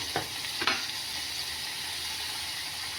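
Indian-style Maggi noodles cooking in a pan with spices being added: a soft, steady sizzle with two quick scraping stirs near the start, then an even hiss.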